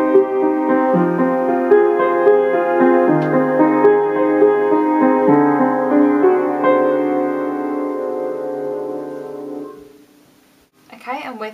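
Piano playing the opening part of a song, steady chords and a low repeating bass line for about ten seconds before fading, then a brief noisy sound at the end.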